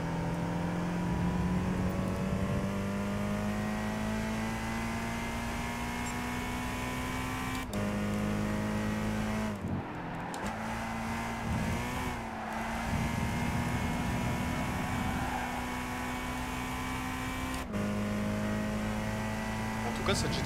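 A Toyota GT86 race car engine in Gran Turismo drones steadily and loudly at high revs, with brief dips and gear shifts around the middle and a cut near the end, holding a continuous racing tone throughout.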